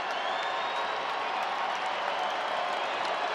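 A large baseball crowd at Coors Field cheers steadily during a Dodgers at Rockies game, a dense, continuous roar of voices and applause filling the whole stretch at even loudness.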